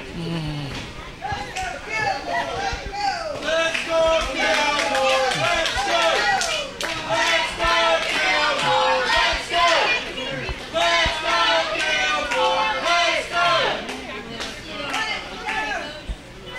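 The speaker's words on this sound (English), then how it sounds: "This crowd is awake and alive now." A pro wrestling crowd at an American Pro Wrestling heavyweight championship match, cheering, shouting and clapping in a dense, sustained roar, with voices calling out over the noise throughout.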